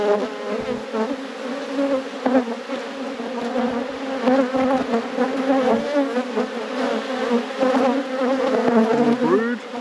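Honeybees buzz densely at an opened hive during a robbing event, a loud, continuous swarm drone with many overlapping wingbeat tones that rise and fall as individual bees pass close.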